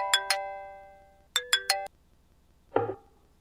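A mobile phone ringtone plays as short bursts of bright, tonal chimes, two quick notes followed by three more, with sustained ringing tails, close and clear in a quiet room, ending with a brief muffled sound.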